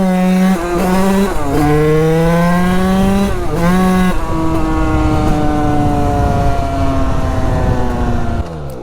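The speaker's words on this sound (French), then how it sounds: "Bon déjà l'embrayage il patine." A tuned 50cc motorbike with a slipping clutch revs hard and loud, its engine pitch climbing, dropping and climbing again in repeated surges before settling into a sustained high whine.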